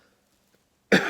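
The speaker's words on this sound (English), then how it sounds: "excuse me for coughing" A single sharp, loud cough bursts out near the end after near silence.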